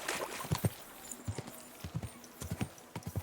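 A horse's hooves clip-clop at a steady walking rhythm in the video game Kingdom Come: Deliverance, fairly quiet and close, in pairs of soft thuds over a faint background.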